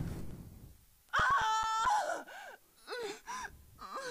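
A character's exaggerated death scream in the horror video game Deception 3: a sudden loud gasping wail followed by several shorter groaning, moaning cries that trail off, heard alone without talk.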